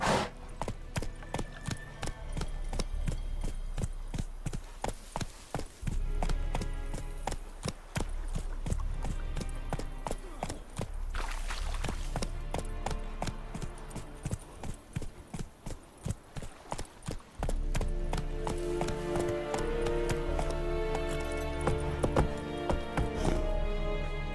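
Geralt's horse Roach gallops in The Witcher 3 video game, a steady, fast clip-clop of hooves running continuously at close range, with game music and ambient sound layered underneath.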